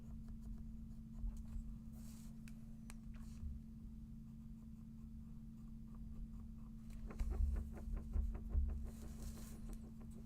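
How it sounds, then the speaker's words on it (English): A pencil scratches and taps across paper while drawing, with soft irregular strokes over a low steady hum, a brief burst of quick rhythmic strokes near the end, and no voices. "We'll use our pencil."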